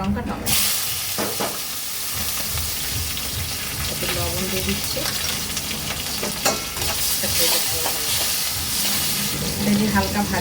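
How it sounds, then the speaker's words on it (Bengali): Black cumin, onion, green chili and tomato hit hot oil in a pan with a loud, close sizzle and crackle, while stirring scrapes along and a voice speaks briefly over the frying. "তেলের মধ্যে একটু কালো জিরা দিয়ে দিলাম, পেঁয়াজ, কাঁচা লঙ্কা, টমেটো।"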